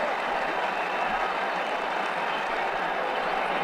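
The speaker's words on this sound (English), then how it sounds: "He's getting a polite round of applause as he makes his way to the pavilion." Steady crowd applause from a cricket video game plays as a batsman walks off to the pavilion at the end of an innings, a continuous even wash of clapping at constant volume with no voices.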